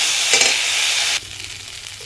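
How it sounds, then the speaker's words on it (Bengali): Masoor dal being stirred and fried in a pan: a loud, steady scraping sizzle that drops abruptly to a quieter, softer crackle partway through, with no talking. "এখন আমি ডালটা দিয়ে আর একটু নাড়াচাড়া করে রান্না করে নেব।"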